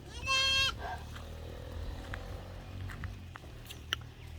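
A goat gives one loud, close, wavering bleat at the start, then quieter outdoor ambience follows with faint rustles and a few small taps.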